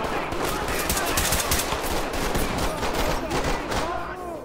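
Dense, sustained automatic gunfire in a shooter video game keeps up a loud, rattling barrage from start to finish, with faint voices beneath it.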